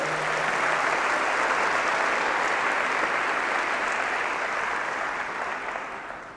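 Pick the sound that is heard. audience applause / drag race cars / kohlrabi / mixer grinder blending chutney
audience applause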